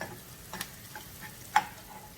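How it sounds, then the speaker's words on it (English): Onion sautés quietly in a pan with a low, soft sizzle. A couple of sharp clicks or spatula taps punctuate it, and no voices are heard. "We have to saute it for 2 minutes only."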